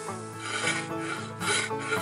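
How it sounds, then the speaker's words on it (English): A farrier's rasp files wood during hand carving with rough, close, continuous scraping strokes that swell twice in loudness. "sometimes nothing else will work like a good old farrier's rasp"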